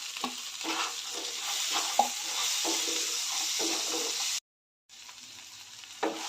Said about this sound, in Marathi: आता यामध्ये मी गवारी घालते गवारी मिनटं यामध्ये परतून घेऊयात